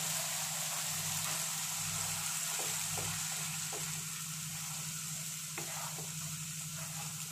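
Onions and spice paste fry over medium heat, producing a continuous, even sizzle that stays close and steady throughout, with a few soft stirring taps and no talking.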